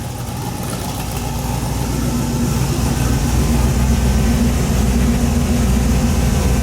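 A Mazda RX-7 rotary engine idles steadily nearby at about 880–900 rpm, a continuous low throbbing hum with a slight rise in level after the first couple of seconds.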